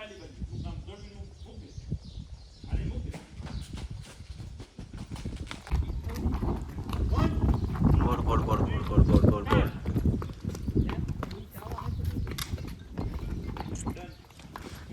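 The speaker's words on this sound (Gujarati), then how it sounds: "ઘોડો અહીંયા છે" A horse's hooves clop in a continuous uneven rhythm during a ride, growing louder and nearer midway, while people talk over the hoofbeats and birds call faintly.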